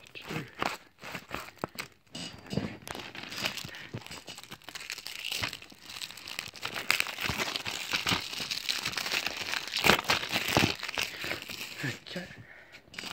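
Scissors cut and stab through the crinkly plastic wrap of a Corpse Bride DVD case, giving repeated crunching, crackling and tearing bursts close up, with talk throughout.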